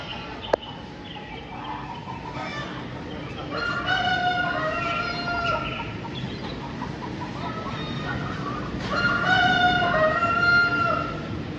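A rooster crows twice in the Elinor and Friends video game, each cock-a-doodle-doo a clear, drawn-out call heard moderately close over a quiet background hum, with no talk.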